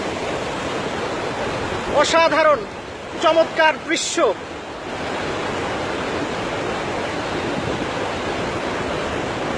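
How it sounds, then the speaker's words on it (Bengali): Iguazu Falls in Brazil, water pouring down as a loud, constant roaring rush close by, with a few short bursts of talk over it. "এই যে এখান থেকে নিচে পড়ছে পানি"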